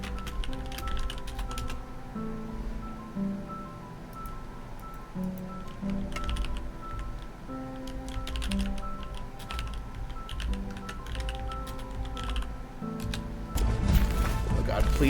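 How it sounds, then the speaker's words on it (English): Rapid clicking from a computer keyboard runs almost without pause, close and fairly loud, in uneven bursts of keystrokes, with a voice heard faintly in the background. "I'm sorry that I have to subject you to my typing while I do this."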